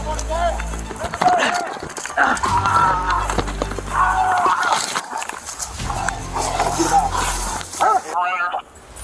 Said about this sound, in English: Hey, I'm gonna send this dog over.